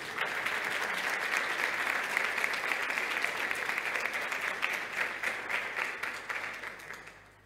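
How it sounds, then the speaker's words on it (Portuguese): A church congregation applauds after a Gospel reading, a steady, even wash of many hands clapping that holds for about seven seconds before fading out, heard from some distance with no talk over it. "Vamos aplaudir a palavra de Deus."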